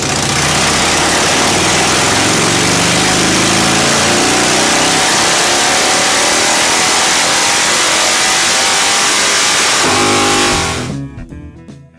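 A street motorcycle with drag pipes and leaned-out carburetor jetting revs hard, a loud, raspy exhaust roar held for about ten seconds before cutting off abruptly.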